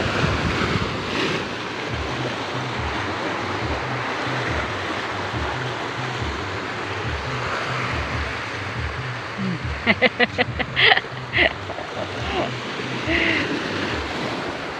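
Steady wind roars and buffets the microphone throughout, with a few brief clicks and knocks partway through and faint voices in the background.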